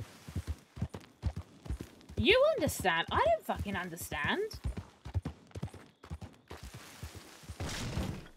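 Steady clip-clop of horse hooves while riding in a western roleplay video game, a rapid even rhythm that runs the whole time, close and clear, with someone talking loudly over part of it.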